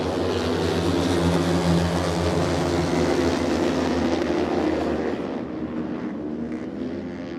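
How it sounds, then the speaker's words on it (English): Racing quad engines roar around the GP corners of a frozen-lake ice track, a loud sustained engine drone that sweeps past and fades toward the end, with no talking. "On 47 of Jason White, just muscling that quad around the first set of GP corners"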